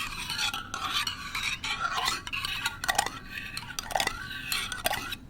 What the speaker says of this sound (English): The lid is such a gorgeous sound.